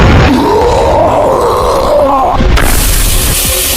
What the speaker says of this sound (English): I think the rocket finished him off